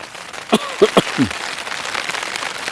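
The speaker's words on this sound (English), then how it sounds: "Yeah, 2 hours later and it's still raining." Rain patters steadily on a tent in alpine terrain on the Colorado Trail, a dense close hiss of drops with a few brief louder knocks and taps early on.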